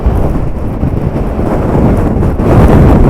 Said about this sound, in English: it's a lot windier than I thought it was going to be